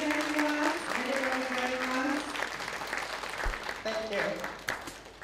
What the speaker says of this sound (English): Please give her a big round of applause to Ms. Vitali.